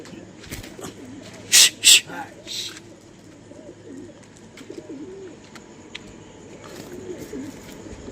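Startled pigeons in a loft before being released give low cooing calls and fluttering, broken by two loud sharp bursts near the start, with some talking in the background.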